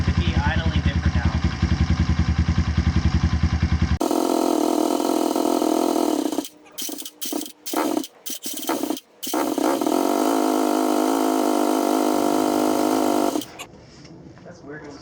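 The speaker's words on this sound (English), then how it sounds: "Seems to be running fine, but it doesn't seem to want to stay running." A Kawasaki KLX170 big-bore dirt bike engine idles during break-in, a loud close buzzing putter that sputters and stumbles in the middle, then runs again before dropping away, with someone talking over it.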